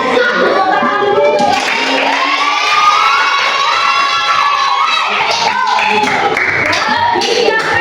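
A classroom of children chant and clap together in a rhythmic pattern, voices loud and close, with claps and shouts layered over the sing-song chant throughout.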